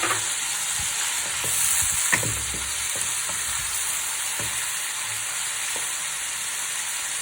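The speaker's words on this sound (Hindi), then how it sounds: "दो मिनट ऑयल के साथ फ्राई करने के बाद इसमें लहसुन अदरक का पेस्ट डालूंगी" Garlic and ginger paste sizzling in hot oil for chicken karahi, a steady close frying hiss with occasional stirring clicks and no voices.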